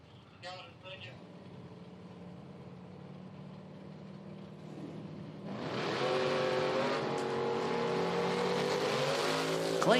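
A 1974 Chevy Camaro and a Ford hot rod launch down a quarter-mile drag strip, engines idling low and far before surging into a loud revving roar midway that holds to the end, with an announcer speaking over it.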